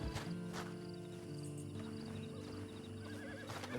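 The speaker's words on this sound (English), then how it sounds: "And you better get on this horse." A horse in the Western video game Red Dead Online gives a loud whinny and neigh over clip-clopping hooves and steady game background sound, with a second neigh toward the end.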